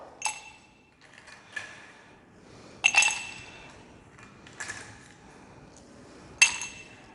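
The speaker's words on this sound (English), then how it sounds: "This, I am putting some ice into this glass of water." Ice cubes drop one by one into a glass of water, giving several sharp, bright clinks spaced a second or two apart, close and fairly quiet in a still room.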